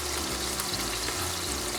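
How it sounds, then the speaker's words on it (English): Red and green peppers fry with ground beef in a pan, giving a dense, even sizzle that stays loud and close throughout with no talking. "I'm gonna put some red and green peppers in here"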